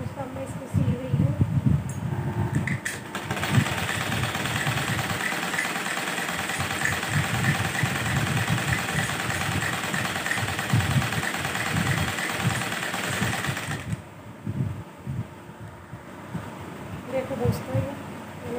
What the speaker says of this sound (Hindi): इन दोनों को मैं मशीन से सिलाई लगाऊंगी